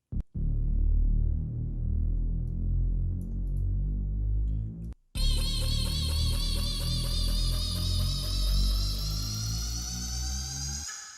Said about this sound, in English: this serum respace that goes up, and then towards the second half, it starts building in pitch